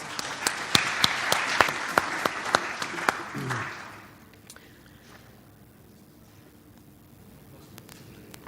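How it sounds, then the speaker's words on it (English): A convention audience claps for a panel of executives: loud, sharp applause with distinct individual claps fades out after about four seconds, leaving quiet room tone and a few faint shuffles. "applause for our panelists."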